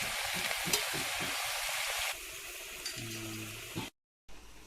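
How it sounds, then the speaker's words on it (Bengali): Salted food in a cooking pot on an outdoor picnic outing, stirred over a steady sizzling hiss with scraping strokes, ending in a brief clatter before a sudden cut. "পরিমাণ মতো নুন দেওয়া হলো, দিয়ে এটাকে কিছুটা নেড়ে এটাকে কভার করে দেওয়া হবে"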